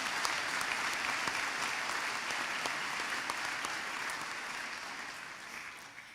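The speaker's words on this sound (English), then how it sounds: "So I think they deserve some applause." Graduation audience at a School of Tourism and Hospitality Management ceremony applauds steadily, a dense, sustained clapping from a large crowd that fades slightly toward the end, with no talk over it.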